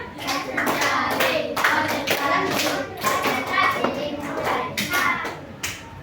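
Children in a classroom clap their hands in sharp bursts of varying counts, each group of claps separated by short pauses, with a young voice calling out between the sets.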